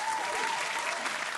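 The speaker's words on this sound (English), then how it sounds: "Give him some hand claps." Dense applause from a crowd welcomes a guest on a sports talk show, a steady wash of clapping over the whole short stretch.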